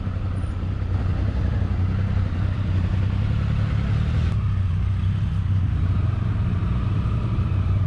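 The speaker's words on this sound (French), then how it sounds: "Ah, c'est pas toujours simple de garer 5 motos." Motorcycle engines idle and rumble steadily in a crowded car park under roadworks, a continuous close low engine drone with occasional clatter as five bikes, including a V-Strom, R1200GS, KTM and Triumph, are manoeuvred into place.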